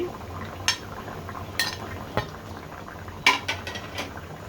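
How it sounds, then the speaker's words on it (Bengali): A spoon stirs rohu fish curry, a red bhuna, in a pan, giving a few sharp clinks and scrapes spaced over a quiet, low background. "আবার নেড়ে চেড়ে দিচ্ছি।"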